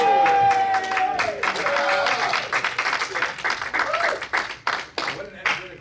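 A magic show audience in the evening claps steadily through the whole stretch, dense applause with a voice speaking over the first part.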